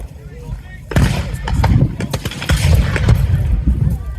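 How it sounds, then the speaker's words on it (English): Large explosion during a TankFest tank battle display, a sudden loud boom followed by rumbling and scattered sharp shots, with a commentator talking over it. "That is a very large explosion"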